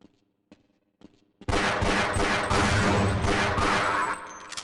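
Rapid gunfire in Half-Life 2 bursts out after a few faint clicks, a loud close fusillade of repeated shots lasting several seconds.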